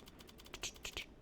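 Quiet keyboard typing, a short run of soft, irregular key clicks that grows a little louder toward the end.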